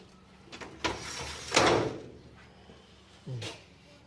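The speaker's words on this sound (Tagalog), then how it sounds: "Aluminum din to yung mga pintuan. Sliding." An aluminum sliding door in a bungalow scrapes and rattles along its track, with a louder rolling rush partway through and a short thump near the end, heard without speech.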